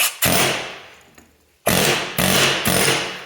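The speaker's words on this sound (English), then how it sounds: "I think I'm going to go after the air hammer and maybe save a couple swings." Several loud bursts of a pneumatic air hammer rattling against the metal front axle hub of a John Deere 4410 tractor, a long burst, a pause, then three more close together.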